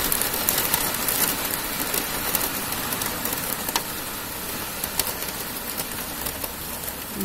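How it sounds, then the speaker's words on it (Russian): Hail pelting down in Altai during a sudden cold snap, a dense continuous hiss of pellets striking surfaces with scattered sharper ticks and cracks, steady and loud throughout with no voices. "Теперь у нас дело дошло до града."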